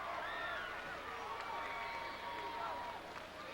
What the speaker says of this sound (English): Great support from the Beckley fans and a great deal to cheer about here tonight